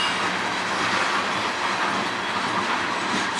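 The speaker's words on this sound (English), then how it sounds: "We got 2 trains waiting to go westbound, 2 auto rack trains." An auto rack freight train rolls past in Sarnia, Ontario, a loud, steady broadband roar of railcars with a faint clickety-clack of wheels running through the whole stretch, close by and with no voices.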